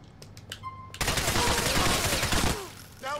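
Sustained automatic gunfire in Grand Theft Auto: The Ballad of Gay Tony, a loud dense burst of rapid shots lasting about a second and a half, preceded by a few scattered game sounds and ending abruptly.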